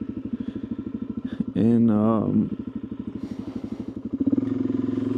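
A DRZ 400 motorcycle being ridden gives a steady, throbbing single-cylinder engine beat throughout, rising briefly in the middle. A rider's voice speaks over it for a moment.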